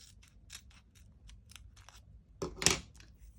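Scissors snipping washi tape, a series of small quiet clicks and cuts followed by one louder, longer closing snip, with no talking.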